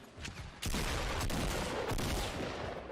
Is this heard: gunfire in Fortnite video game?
yes